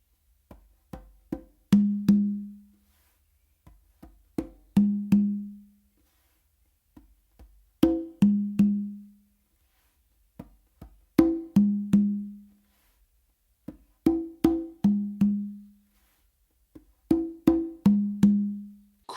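Conga groove, muted ghost notes and ringing open tones in repeating phrases of quick slaps and hits, played alone, close and clear, with short pauses between phrases.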